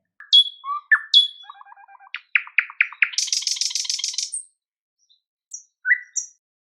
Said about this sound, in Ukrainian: Так, малята, це соловей.